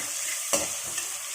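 Onions sautéing in oil in a pan for prawn biryani, a steady close hiss of frying broken by one sharp scrape of a spoon and a fainter second stir.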